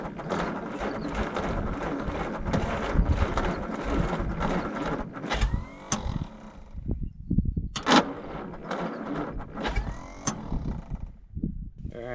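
A hot-wired 1949 Plymouth Suburban engine cranking over and briefly firing, a loud rapid mechanical churning that breaks into uneven clattering bursts and sputters before fading, heard close.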